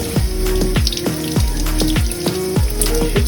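Sweet potatoes being washed for wedges under a running kitchen tap, with a strong, steady gush of water and splashing as they are turned in the stream, close and loud throughout.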